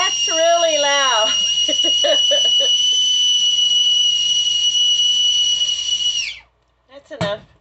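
Shrill, loud, continuous whistling from a 2.7 quart stainless steel Belanko teapot runs under a person talking, then cuts off abruptly, followed by a short moment of quiet and another brief voice.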